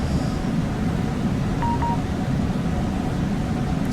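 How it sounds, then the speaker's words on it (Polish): Two short electronic warning beeps sound in quick succession inside the cab of an ED250 Pendolino train in the SimRail simulator as it enters a neutral section, set against a steady, loud rumble of the moving train. "Znowu sekcja bezprądowa, sygnał dźwiękowy będzie"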